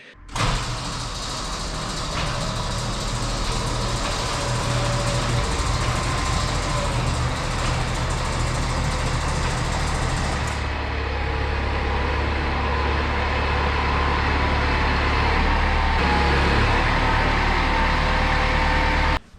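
A Kubota tractor engine, with its loader fitted, runs steadily and loudly as the tractor pulls into a shed for maintenance. A continuous low rumble holds for the whole stretch with no talk over it.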